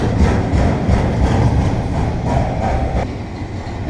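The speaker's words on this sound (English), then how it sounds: "here comes another train coming back the other way" A train passing close by near a Norfolk Southern railroad siding, a loud, steady roar of wheels and cars rolling along the track with rhythmic rumbling throughout.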